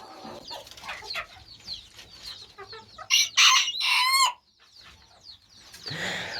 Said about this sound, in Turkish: Harika denk geldi ötüşü. İnanılmaz harika bir horoz.